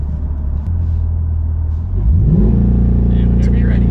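A 2020 Corvette C8 engine held against the brake for launch control, rumbling steadily, then rising sharply into a loud, sustained rev that stays close and strong to the end.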